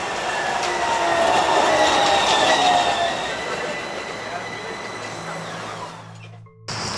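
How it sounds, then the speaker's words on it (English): An Athens tram rides along with a loud, steady rumble and rolling wheel noise, metallic squeals and whining tones rising and fading, before the sound cuts off abruptly near the end. "Our tram, which is just parked here, took us to here."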